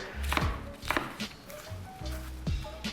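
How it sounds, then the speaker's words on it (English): Knife chopping bacon roughly on a cutting board, a handful of distinct thuds spaced about half a second apart, close and fairly quiet. "And then we're going to just roughly chop it."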